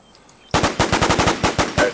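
Rapid automatic gunfire in The War Z, about a dozen loud close shots in quick rhythm after a brief quiet start.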